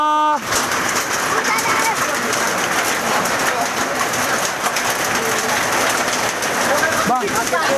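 Hailstorm pelting down in Purba Baru, Madina, a dense, constant roar of ice striking surfaces that holds loud and steady throughout, with a voice briefly audible near the end.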